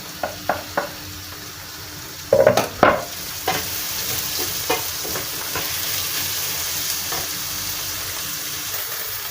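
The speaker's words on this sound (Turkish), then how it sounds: "soğanlarım kavruldu. Biberlerim atıyorum." Onions and peppers fry in a pan with a steady hiss of sizzling, a few sharp clacks of stirring near the start, close and fairly loud with no talk.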